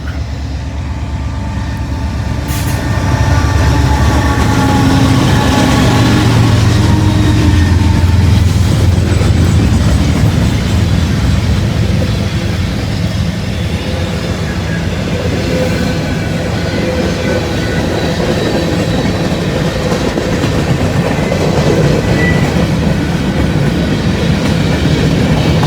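A long freight train of 484 axles rolls past close by, a loud continuous rumble with rhythmic clickety-clack of wheels over rail joints and occasional squeals, sustained throughout.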